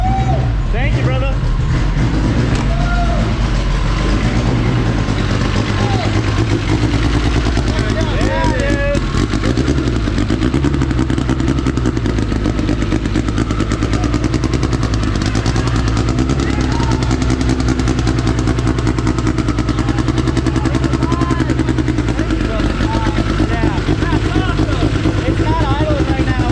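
A freshly rebuilt Honda CRX engine runs loud and rough, close by, not settling into an idle, while people talk and cheer over it.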